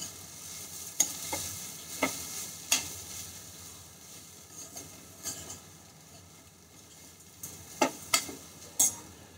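Grated coconut stirred in a hot pan with the heat switched off, a soft background sizzle broken by a series of sharp spoon scrapes and taps at irregular intervals, close, no talking.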